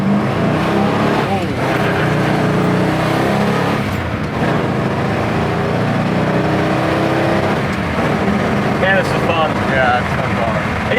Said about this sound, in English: It's hard to beat a 4-speed car when they're set up nice and when they shift well.